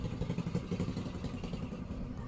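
A motorcycle passes at a modest distance, its mid-pitched engine rumble and light mechanical clatter holding steady and fairly quiet throughout, with no voices over it.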